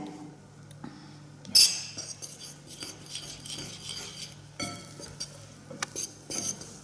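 Spoon or fork stirring warm edible homemade play dough in a bowl, with soft scraping and occasional light clinks of cutlery, fairly quiet and close, one sharper knock early on.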